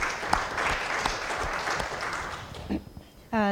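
Audience at a genetic testing event applauding steadily, then the clapping thins out and fades before a voice begins near the end.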